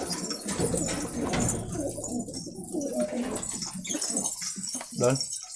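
Soft, repeated cooing of a pigeon close by, heard under someone talking.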